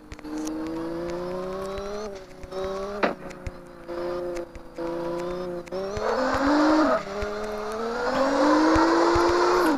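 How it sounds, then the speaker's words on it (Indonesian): Rally car drifting in CarX Drift Racing 2, engine droning and revving steadily with rising pitch toward the end, tire squeal layered over the close, continuous game engine sound with no talk. "Waduh, ini mobil rally tapi ngedrift banget coy ya."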